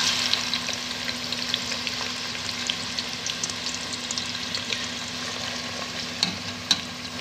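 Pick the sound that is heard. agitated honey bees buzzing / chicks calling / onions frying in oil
onions frying in oil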